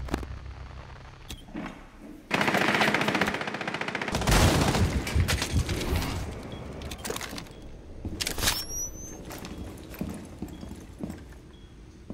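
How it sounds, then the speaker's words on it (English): Rainbow Six Siege gunfire on the Consulate map comes in rapid bursts of close, loud shots, with a heavy sustained volley mid-clip, scattered single shots and thuds around it, and no talk. "Shooting at Van Davy"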